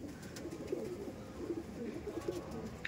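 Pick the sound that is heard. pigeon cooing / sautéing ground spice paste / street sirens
pigeon cooing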